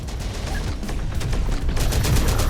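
Enemy gunfire in a war video game: dense overlapping bursts of rifle and machine-gun fire with booming impacts, a continuous loud barrage throughout that swells toward the end, with no talking.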